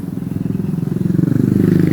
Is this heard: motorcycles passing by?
yes